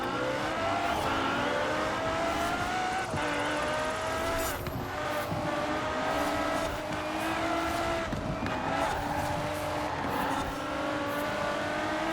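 A Bugatti Veyron Super Sport races in a video game, its engine holding a loud, sustained high-pitched whine with shifting pitch through gear changes and brief tire squeals, continuous for the whole stretch.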